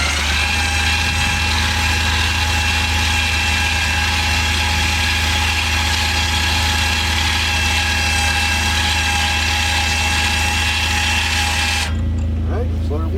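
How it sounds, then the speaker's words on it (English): A Warn 4000 winch on a 2020 Kawasaki Mule FXT Pro Ranch model runs with a steady, loud mechanical drone and engine hum that holds constant for about twelve seconds, then cuts out abruptly, leaving a low idle. "let's let our winch cool down"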